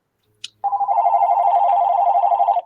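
A desk telephone rings loudly and close by with a continuous warbling electronic tone that starts suddenly after a brief click and carries on unbroken.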